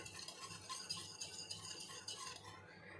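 Fresh curd being whisked in a small bowl with a spoon, giving quiet, rapid clinking and scraping strokes that repeat steadily and close by.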